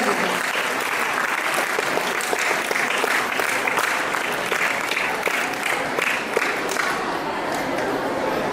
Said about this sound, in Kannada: ನಮ್ಮಲ್ಲಿ ಅವರಿಗೆ ಜೋರ ಚಪ್ಪಾಳೆ ಮೂಲಕ ಸ್ವಾಗತಿಸಬೇಕು